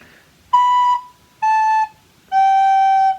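A teacher in a 4th and 5th grade music class plays the opening of a song on a wind instrument: three clear, steady held notes with short gaps, the last one lower and longest, with no voices.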